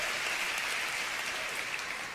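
A congregation claps together at a church service, a steady, fairly faint wash of applause heard from a short distance.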